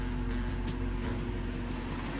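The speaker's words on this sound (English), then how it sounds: "It acted like it was going to idle down, but it actually settled at that RPM right there." A grey Euro-market Mercedes-Benz 500SEC with a bad idle and surging fault holds a steady raised-RPM idle, a continuous close engine drone with a low hum and no talk over it.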